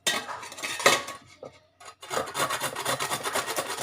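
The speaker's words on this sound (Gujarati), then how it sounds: "એમાં આપણે આને મૂળાને છીણી લેવાનું છે" Radish being grated for paratha: a steady series of rough rasping strokes close by, with two brief pauses, then fast, even scraping that continues without voices.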